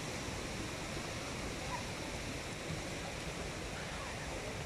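Water running down a children's water slide into a shallow outdoor pool on holiday in Germany, a continuous even rushing splash that stays steady and fairly distant with no breaks.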